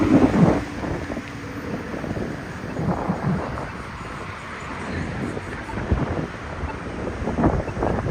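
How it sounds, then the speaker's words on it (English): Gusty wind on the Las Vegas Strip at night buffets the microphone in low, rumbling bursts that swell and fade throughout, fairly loud and without speech. "We got some wind, as you can probably hear on the microphone."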